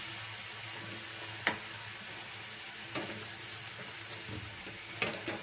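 Potatoes with turmeric frying in a pan under a steady low sizzle, with a few soft stirs and occasional light scrapes of a utensil against the metal.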